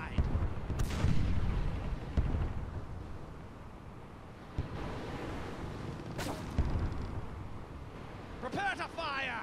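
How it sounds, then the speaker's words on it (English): Ship cannons boom from the port side in the pirate naval game Blackwake, a few heavy blasts rolling out amid battle noise, with a voice calling commands over the action. "Prepare to fire, port side. Let fly."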